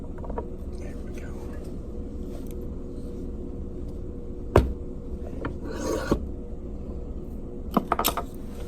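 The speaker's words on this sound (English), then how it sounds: "Go ahead and do a little bit more deburring on it." A file deburring a coin ring made from a Canadian quarter, close rasping strokes running throughout with a few sharp clicks and knocks of the metal.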